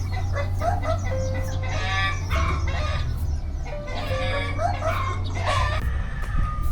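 Several chickens cluck and squawk in close, busy bursts in a village in Kerinci, Indonesia, over a steady low engine-like drone, with a rooster's crow mixed in.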